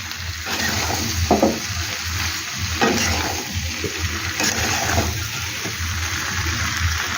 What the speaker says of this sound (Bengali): এটা এবার আমি আস্তে আস্তে কষাবো, ঢাকা দিয়ে দিয়ে রান্নাটা করে নিই।